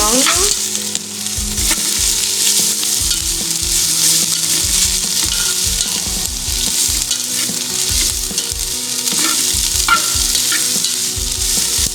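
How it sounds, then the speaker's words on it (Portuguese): Loud, continuous sizzling of shredded dried beef frying in a pan, with occasional scraping and stirring clatter throughout. "Aqui, ó, ela já tá fritando."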